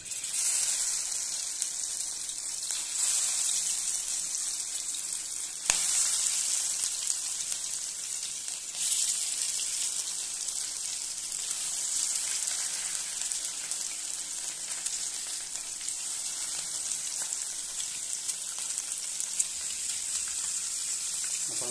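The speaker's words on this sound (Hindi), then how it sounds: "एबे आमे माछ को टिके फ्राई कर दबा" Fish pieces fry in hot oil in a kadai for Odia macha patua, a continuous soft hissing sizzle with a few faint crackles and clinks, no voices.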